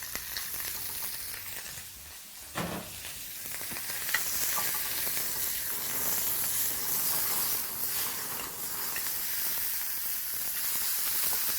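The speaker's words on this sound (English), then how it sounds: "Now once your pan is hot, you'll begin by browning your beef mince." Beef mince browns in a hot pan, a small amount giving a steady, close sizzle with a few faint stirring scrapes and no voices.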